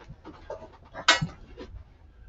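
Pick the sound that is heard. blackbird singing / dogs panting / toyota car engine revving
dogs panting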